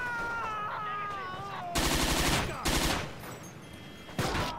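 Video game gunfire on the Medjez el Bab map bursts out in three sharp, loud volleys of rapid automatic shots, following a stretch of lower game ambience with a faint wavering tone.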